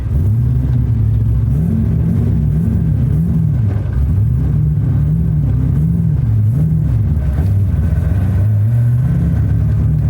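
A Corvette Z06 driving slowly under its own power on a Haltech Nexus build, a loud close steady engine rumble with gently rising and falling pitch.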